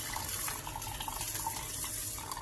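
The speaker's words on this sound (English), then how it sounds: "So I'm just adding in the water with half a cup of rice." Tap water running steadily into a pot with half a cup of rice for porridge, a continuous close splashing hiss without a break.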